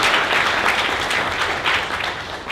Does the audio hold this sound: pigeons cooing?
no